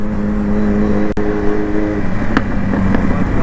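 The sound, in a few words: superbike exhaust backfire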